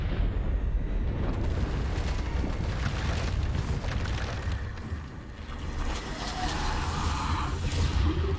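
Bombarda spell explosions in the video game Hogwarts Legacy, a dense, continuous roar of blasts and rumbling combat effects, loud throughout with no clear gaps.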